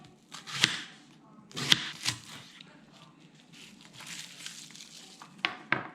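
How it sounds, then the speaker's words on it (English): A knife chops a peeled onion for a squid dish, giving irregular sharp close cuts with a few louder thuds amid soft background noise. "Chop up the onion."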